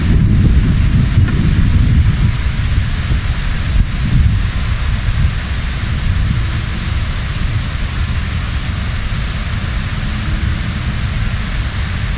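Steady wind rushes across the top of Lockport Dam with water noise beneath, a loud, unbroken roar of gusting air and flowing water throughout.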